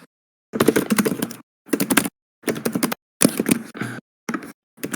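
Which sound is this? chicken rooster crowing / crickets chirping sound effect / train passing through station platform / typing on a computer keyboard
typing on a computer keyboard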